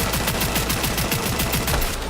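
Smart gun firing in Cyberpunk 2077, a rapid, evenly spaced burst of loud shots rattling off like automatic fire, continuous and close, with no voices over it.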